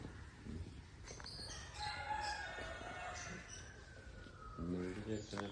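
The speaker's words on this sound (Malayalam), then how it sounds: "ഇവിടെ ഉണ്ട് കേട്ടോ കോഴിക്കള്" Chickens kept in an outhouse crow and cluck faintly at a distance, with quiet talking mixed in.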